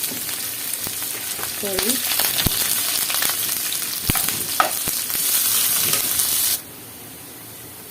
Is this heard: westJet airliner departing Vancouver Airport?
no